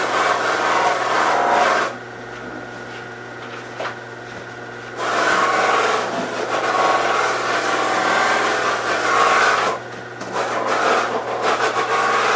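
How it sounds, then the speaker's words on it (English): A guitar body is sanded by hand for its finish, giving long, loud, close rasping strokes in three extended passes with brief pauses between, over a steady low hum. "you can sand this"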